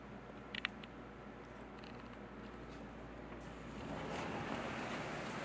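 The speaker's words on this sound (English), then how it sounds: "Ah, the ocean." Ocean surf rolling in below a hotel balcony, a steady broadband wash that swells louder toward the end, with light wind and a couple of faint clicks early on.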